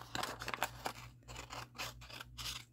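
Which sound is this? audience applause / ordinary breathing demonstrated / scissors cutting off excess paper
scissors cutting off excess paper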